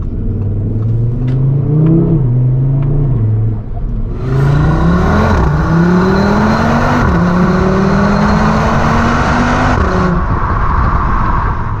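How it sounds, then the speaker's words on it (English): Audi RS3 five-cylinder engine from the 2022 model, roughly 400 bhp, revving while driving: a loud, continuous rising and falling engine note with repeated up-shifts, swelling to a harder, brighter pull partway through, with no talk. "The 5-cylinder needs to live on forever, honestly. Such a good engine."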